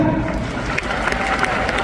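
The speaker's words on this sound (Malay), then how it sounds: "Tepukan anda dulu untuk Cikgu Faridah." An audience at an Amway recognition event in Kuala Lumpur claps and cheers, a dense, steady burst of applause filling the hall for under two seconds.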